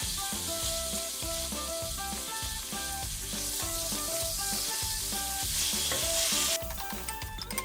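Meat browns in a frying pan for a Thai drunken noodle stir fry, a steady loud sizzle running throughout with regular scraping stir strokes, layered over constant background music.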